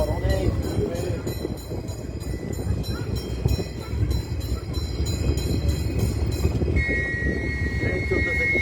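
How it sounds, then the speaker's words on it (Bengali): A train passing in rural Manikganj, Bangladesh, a loud continuous rumble with a rapid rhythmic clatter of wheels over rail joints, close and sustained, with a faint whistle-like tone near the end and no clear talk. "ট্রেন চলতেছে কি সুন্দর"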